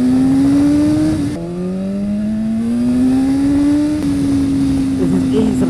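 A BMW S1000RR sport motorcycle engine screams at high speed, a loud continuous whine with pitch climbing through gear changes and wind rush, while a rider's voice comes through underneath.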